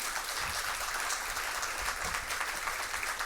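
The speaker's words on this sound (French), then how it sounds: "Je vous demande de l'applaudir très chaudement." Sustained applause from an audience at a high school quiz competition between two lycées, a dense, steady clapping texture with some low rumble underneath.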